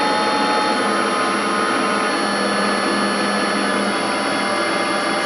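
Metal lathe running at a slowed 150, giving a steady even whir with a faint low hum and a high whine throughout, close and continuous, with no talk.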